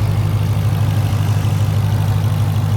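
Supercharged Dodge Challenger SRT Hellcat Redeye from 2022, 810 horsepower with an aftermarket carbon fiber intake, idling with a steady, deep, loud rumble close by, even and unbroken.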